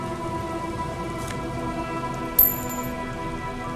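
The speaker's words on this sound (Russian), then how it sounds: "Ну, потому что дождь льет, как бы." Steady rain falls in the video game Disco Elysium, a soft even patter layered over a low ambient hum, with one brief sharp tick partway through.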